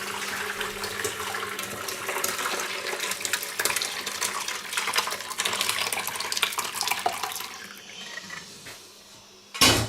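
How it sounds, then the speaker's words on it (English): Homemade tofu being poured and strained through a big sieve, a loud continuous rush and splash of liquid close by for several seconds, easing off before a sharp clatter at the end. "I strain it in a big sieve and then I scoop out the chunks"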